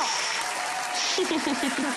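A studio audience at an Italian TV show claps in a dense, sustained round of applause, with a voice speaking over the clapping toward the end.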